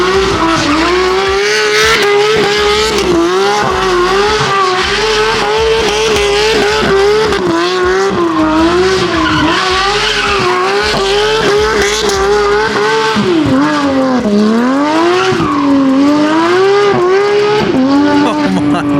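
A BMW F80 M3 drifts with loud, continuous tire squeal wavering in pitch over a roaring, revving engine, sustained and close throughout, with voices occasionally underneath.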